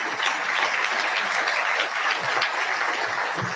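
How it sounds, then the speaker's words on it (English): An audience at a school district state-of-the-district address applauds steadily, a dense, even wash of clapping hands that holds at full strength from start to finish. "Go ahead and clap for that, Lyndon."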